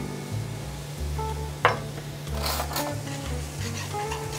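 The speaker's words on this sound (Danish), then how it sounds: "Hov, René, må man egentlig godt bruge en stålske ned i sådan en stegepande her?" A steel spoon stirs a one-pot chili dish in a frying pan, scraping and clinking against the pan over a steady sizzle, with one sharp metallic knock partway through.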